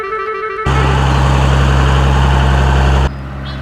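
A heavy lorry engine idles loudly and steadily for a few seconds, a deep droning rumble that starts and stops abruptly.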